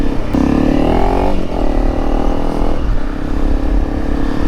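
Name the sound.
Honda CRF 300 Rally motorcycle with MotoX muffler revving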